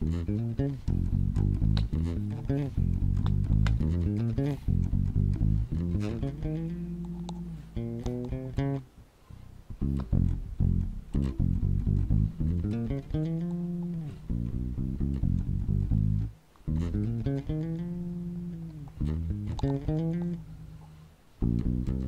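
Bass guitar playing a gospel praise-break run, with quick sliding, bending low notes in busy phrases and short pauses, close and clear with no talk.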